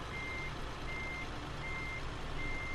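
Reversing beeps from a Scania truck in a driving simulator game, four evenly spaced electronic tones over a steady low engine drone.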